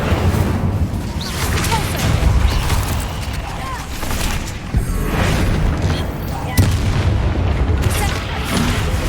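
Incendio fire spell in a Hogwarts video game burning a spider egg sac, heard as continuous roaring fire and booming bursts, loud and close, with talk over it.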